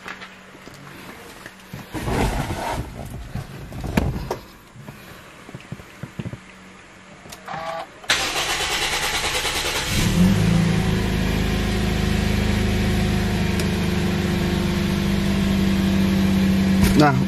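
A taxi converted to automatic transmission is started, its engine catching and then settling into a loud steady run with revving, after some handling noises and speech.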